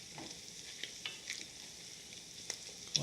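Onions and cabbage fry in plenty of oil in a pan, a faint, even sizzle with scattered small pops and crackles throughout.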